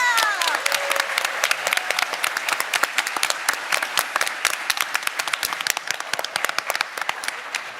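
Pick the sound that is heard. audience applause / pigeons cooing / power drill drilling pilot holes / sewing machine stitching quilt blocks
audience applause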